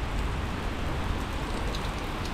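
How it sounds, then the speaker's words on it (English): Heavy rain pours down on a central London street, a dense, loud, continuous hiss of drops hitting the surface close around, with no voices. "it started raining, and it started raining quite a lot"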